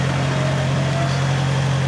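A 4WD idles on a muddy bush track with a steady, low engine drone. The hum is loud and even and holds without change for the whole stretch.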